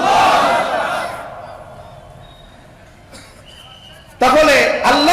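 A crowd at a Bengali Islamic sermon, led by a preacher, chants the takbir back in loud massed voices that open the clip and fade. A second loud burst of chanting follows near the end.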